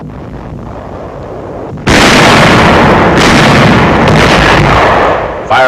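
World War II artillery firing across the Rhine at enemy barges near Düsseldorf in 1945: a sudden very loud blast followed by a long, saturated roar of continuous fire and rumbling explosions, with a lower rumble before it.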